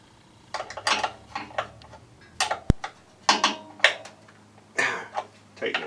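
A solenoid plug is screwed by hand into a carburetor, producing a series of close, sharp metallic clicks and scrapes in short irregular bursts, with one crisp snap partway through.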